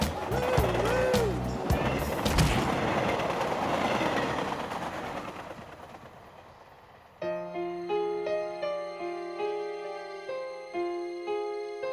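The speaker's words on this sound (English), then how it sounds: "it's a recording of all my favorite train sounds" A train recording rumbles and clatters loudly along the rails from a CD player in a cartoon, fading out before a steady, looping musical tone takes over.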